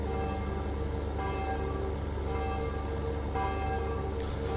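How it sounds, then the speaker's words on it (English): Loud, sustained church bell tones ring out in a dense, continuous wash, with a steady resonant hum under them and no talking, in the video game Farming Simulator 15. "those church bells are loud, huh? You can hear them all across the valley"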